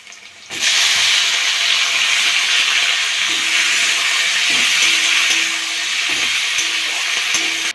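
Flat beans hit a hot pan of garlic, ginger and green chili and burst into a loud, sudden sizzle that stays strong and hissing, with a few soft scraping stirs underneath.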